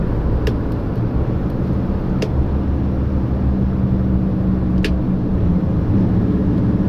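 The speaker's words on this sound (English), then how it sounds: "I'm going to use the retarder again." The retarder on a loaded IVECO S-Way 570 truck brakes on a downhill stretch, producing a steady loud low drone and cab rumble throughout, with a few faint clicks.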